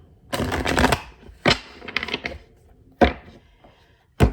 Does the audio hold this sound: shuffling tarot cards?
yes